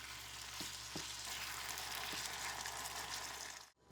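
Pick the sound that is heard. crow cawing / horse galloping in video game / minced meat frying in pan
minced meat frying in pan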